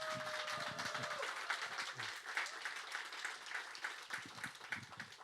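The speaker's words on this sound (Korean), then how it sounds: "우리 목사님 크게 박수하시고 환영하시기 바랍니다" A church congregation claps to welcome the pastor at a Sunday worship service, a soft, continuous patter of many hands heard from a distance, with a brief tone sounding at the start.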